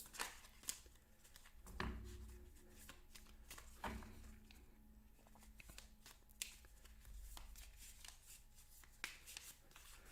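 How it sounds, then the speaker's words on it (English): Repeated riffle-shuffling of a card deck in the Sentinels of the Multiverse video game, crisp bursts of flicking cards and taps coming close and fairly quiet, with no talking. "I'm going to shuffle one more time."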